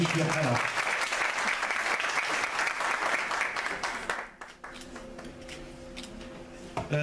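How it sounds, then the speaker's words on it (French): Sustained crowd applause at a closing ceremony for a screeners' training course in Batna, steady and full for about four seconds before dropping away under a held tone and room chatter. "Applaudissements, allez du شوية."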